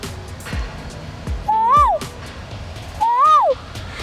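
A person imitates a quail call twice, each a rising then falling whistled hoot, with background noise between the calls.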